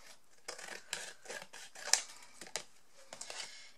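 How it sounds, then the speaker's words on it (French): Scissors snipping through painted card, a series of short crisp cuts spaced about half a second apart with one sharper snap in the middle, close and quiet with no talking. "je vais couper au ciseau par contre"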